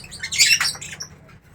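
Harsh, scratchy bird squawks burst out close by, loudest early on, then fade into quieter chirps over a low steady hum.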